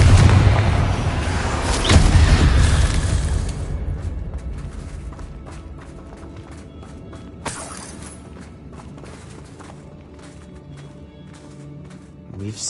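A Confringo explosion spell in Hogwarts Legacy, a loud boom with a shattering burst early on, then a quieter rumble with a few sharp impacts and scattered crackles.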